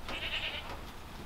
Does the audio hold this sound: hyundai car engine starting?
no